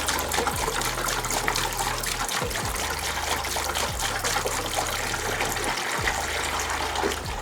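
Plain water is poured to fill the cooling system of a twin-turbo Mustang, a steady trickling and gurgling flow broken by a few brief pauses, close up with no talk.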